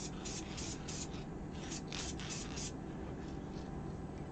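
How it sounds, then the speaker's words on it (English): Varnish sprayed from an aerosol can onto resin prints indoors near a vent fan, a steady broadband hiss with a series of short bursts in the first half. "So that's my varnish spray."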